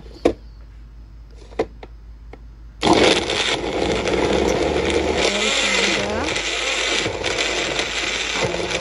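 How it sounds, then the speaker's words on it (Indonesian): An electric blender grinds spice paste with water, starting abruptly after a few sharp clicks and then whirring loudly and continuously with a churning, slightly uneven motor roar, close and dominant. "di sini saya selalu menggunakan air biasa saja jika saya ingin memblender bumbu-bumbu"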